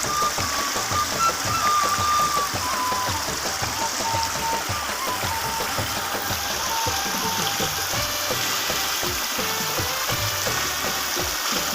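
Flowing river water in Neelum Valley, Azad Kashmir, a steady broadband rush holding even and close throughout with no voices over it.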